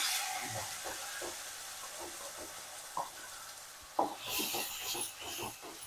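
Ground coconut chutney hits hot oil with curry leaves in a pan, giving a soft background sizzle and hiss with a few sharp spatula scrapes and a louder burst of crackling toward the end, close and without talk.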